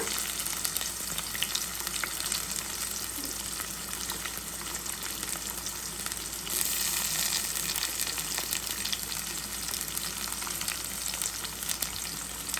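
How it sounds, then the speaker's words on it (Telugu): Onions frying in a pan for a raw mango pakoda pulusu, a dense continuous sizzle and crackle holding steady throughout, close by with no voices. "ఆనియన్స్ వేగిపోయాయండి"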